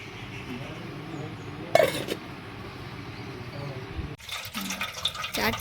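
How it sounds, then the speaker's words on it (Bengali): Water poured into a bowl of black gram lentils to soak: two short splashing bursts, a brief one early and a longer, fuller pour near the end, over faint background noise. "এবার এর মধ্যে আমি জল দিয়ে দিলাম।"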